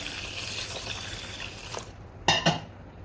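Rice and lentils for khichdi washed in water in a metal container, with continuous soft swishing and rubbing in water and a couple of louder clinks near the end, close and alone.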